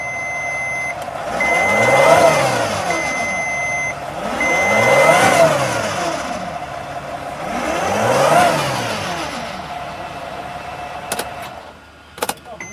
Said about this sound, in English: Watch out, I'm gonna start the engine.